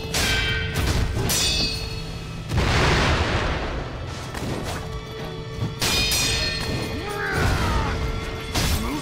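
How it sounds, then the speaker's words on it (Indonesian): Firecrackers thrown by a boss in Sekiro: Shadows Die Twice burst in sharp, crackling explosions amid clashing impacts and mechanical combat sounds, several loud bangs spread across the fight. "Dia ngelempar petasan ya, sama kayak kita."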